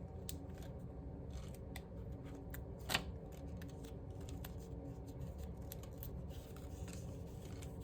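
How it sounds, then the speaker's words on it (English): Scissors snipping in a quiet room, a series of small crisp clicks spaced irregularly, one sharper snip standing out, with faint background hiss. "I'm also using a very nice sharp scissors as well to help me with cutting"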